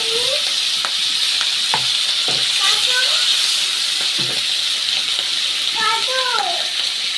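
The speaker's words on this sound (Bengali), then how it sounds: "হালকা করে মাছগুলো ভাজতে হবে" Hilsa fish pieces fry in hot oil, giving a loud, continuous close-up sizzle with spatter crackles and a few scrapes of a spatula, and a voice talks briefly over the frying.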